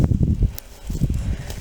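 Wind gusting outdoors in a vegetable garden in March, a close, low buffeting rumble with light rustling that swells and eases, with no talking.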